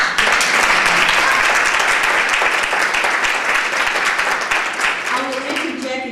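Loud, sustained clapping fills a hall at a school district's faculty and student colloquium as the audience welcomes the evening's lecturer, a thick crowd of hands that eases off slightly near the end.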